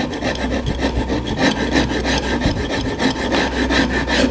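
A wood rasp shapes the headrest of a sculpted wooden rocking chair, making continuous rhythmic rough rubbing strokes up close with no voices.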